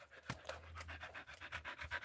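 A dog panting heavily indoors, quick rhythmic breaths close and faint, with no talk over it.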